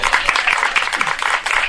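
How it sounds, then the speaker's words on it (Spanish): Dense applause from an audience at a talk, many hands clapping together in a steady, loud burst heard up close. "Vamos a darle un aplauso al cangrejo."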